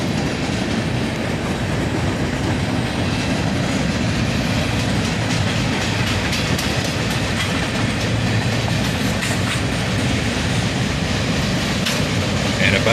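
A freight train rolls steadily past at close range, its consist including empty centerbeam lumber cars, with loud continuous wheel and rail rumble and clickety-clack throughout.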